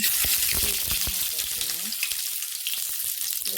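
Oil frying hard in a pan with onions for squid sukka, a loud, dense, continuous sizzle that fills the whole stretch, with a voice briefly audible underneath.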